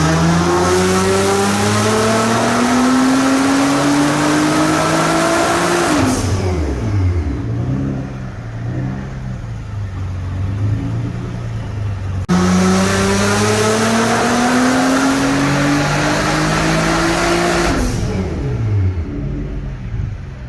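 A Nissan GT-R R35 on stock turbos revving on a dyno, loud and close, with two long pulls that climb steadily in pitch, then drop sharply and settle into lower, uneven revs.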